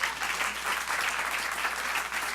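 An audience at a talk show applauds on request, with a brief, steady, dense burst of clapping.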